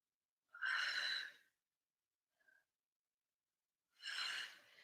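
Steady breaths taken during a stability ball workout: two clear, fairly loud breath bursts separated by a pause, with a tiny faint sound in between and no talking.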